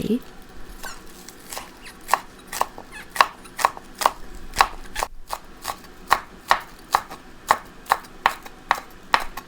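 Green onions and Vietnamese coriander chopped with a knife on a cutting board for Lao-style mushroom larb, a close, crisp series of regular knife strikes repeating at a steady rhythm, loud and distinct with faint background noise.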